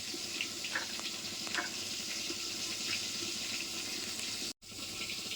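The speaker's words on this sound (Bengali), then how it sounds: "তো ভিজিয়ে রাখি আগে জলে।" Water runs steadily from a kitchen tap or is poured into a bowl to soak a mixed mustard and poppy seed powder, a continuous splashing wash with a brief cut near the end.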